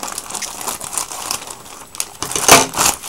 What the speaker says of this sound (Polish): odpakujemy najpierw tą mniejszą paczkę. Mamy normalne nożyczki